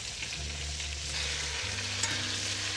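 Frikadeller frying in a pan with rapeseed oil and butter, a continuous close, crackling sizzle with low hum underneath, steady for a few seconds.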